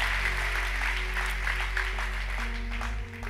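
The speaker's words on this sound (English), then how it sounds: "Would you guys give them a hand clap tonight?" An audience at an evening church gathering in North Orange County claps for visiting church leaders, a broad, steady patter of hands that holds for a few seconds over a low hum and then thins out near the end.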